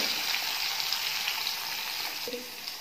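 Tomatoes fry in a kadai after onions with dal, giving a steady close sizzle that stays even throughout, with a faint clink near the end and no speech.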